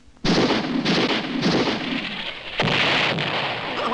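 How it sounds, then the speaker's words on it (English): Cannons firing in a comedic historical sketch about early weapons: a heavy broadband boom opens, followed by a few more overlapping rumbling blasts and a second loud report near the end, with no talking over them. "We're out of cannonballs! Oh no! Fire!"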